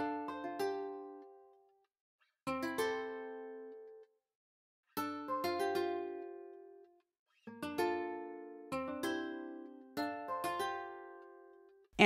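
Ace Nylon MK1 nylon-string guitar from Flex plays an Afrobeats melody with the low end cut by a parametric EQ, in five short plucked phrases separated by brief silences, clear and upfront with no voices.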